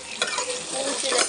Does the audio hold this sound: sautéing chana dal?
yes